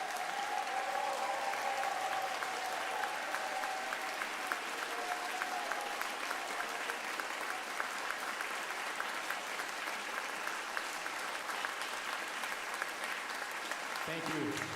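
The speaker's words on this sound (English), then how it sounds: "I would like you to stand up and we'll applaud them." Audience applause for junior piano competition competitors at a concert hall, sustained broad clapping from a large crowd that carries evenly throughout and tapers briefly near the end.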